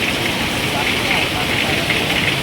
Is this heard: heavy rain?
yes